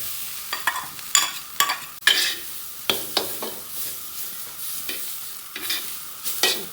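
Dried radish is stir-fried with cured pork, garlic and fermented black beans in a wok, sizzling steadily under repeated sharp scrapes and clanks of the spatula, close and lively.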